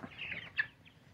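Rhode Island Red hens give a single short, sharp cluck close by over a quiet barnyard background.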